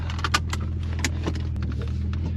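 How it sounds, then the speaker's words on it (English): An Alfa Romeo GT 3.2 V6 cruising on the autobahn, its low engine hum steady and close from the cabin, with a few faint clicks and rattles over it and no speech. "That's a proper Italian V6 sound."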